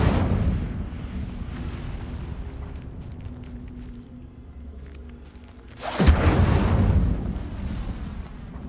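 A fire spell, Incendio, cast in the video game Hogwarts Legacy, bursts out as a sudden loud whooshing blast over a low rumbling game ambience, then fades into a fizzing roar.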